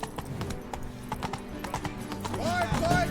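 Horse hooves clip-clopping in The Witcher 3, a quick, regular run of close hoofbeats with a brief whinny near the end and speech over it.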